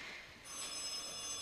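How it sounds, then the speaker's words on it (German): A telephone rings in a quiet indoor setting at a small hotel guesthouse, a steady electronic ringing tone held throughout the short moment with no voices over it. "Ach, das Telefon."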